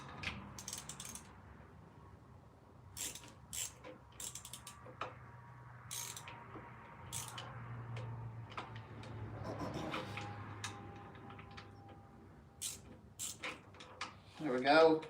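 Ratchet tightening the bolts on a new starter for a 1976 vehicle, with short bursts of clicking pawl strokes scattered between pauses and low background hum, a nearby voice talking faintly at times.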